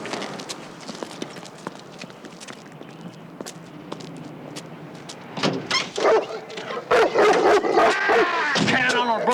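A dog barks repeatedly, growing louder and more agitated, mixed with shuffling movement and scuffling nearby.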